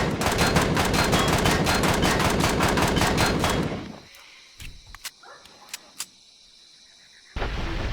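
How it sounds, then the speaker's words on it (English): Pistol fire in the space survival game Empyrion inside a ship: a fast run of loud, evenly spaced shots for about four seconds, then quiet with a few isolated clicks before a steady hum returns. "Let's use the pistol this time"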